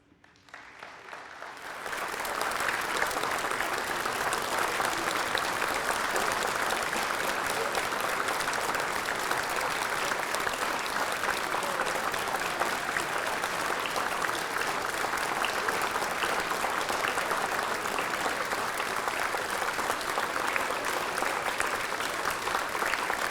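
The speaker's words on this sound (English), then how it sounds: "one more relaxed applause" Audience at a 2016 teaching and leadership awards ceremony gives relaxed applause that swells in over the first two seconds, then holds as a steady, dense clapping wash for the rest, with no talking.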